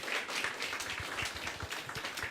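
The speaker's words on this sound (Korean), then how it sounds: "그래서 우리가 박수를 한번 쳐드립니다." Church congregation at an evening service applauding together, a steady, moderately quiet patter of many hands with no speech.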